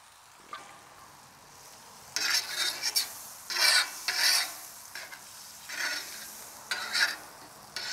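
Rice spread across a buttered flat top grill on low heat, with wild axis venison in the fried rice, scraped and stirred in bursts of rasping, sizzling strokes over a quiet steady frying hiss.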